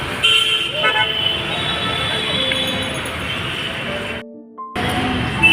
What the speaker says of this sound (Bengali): সিগন্যাল ছেড়ে দিল শত শত গাড়ি